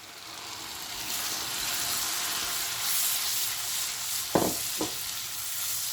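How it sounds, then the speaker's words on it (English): Pureed tomatoes hit a hot pan of ginger garlic paste for tomato fish, setting off a steady, close sizzle and frying hiss, with two short clattering stirs near the end. "And now goes in the tomatoes that I've pureed."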